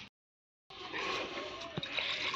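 Water pours into a pressure cooker in a home kitchen, a steady close splashing stream with a faint clink partway through, starting after a brief silence.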